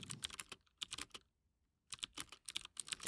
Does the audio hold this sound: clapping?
no